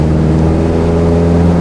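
Toyota Tacoma with a custom exhaust system and mufflers idling, a loud, close, steady low-pitched rumble with a deep throaty tone and no talking.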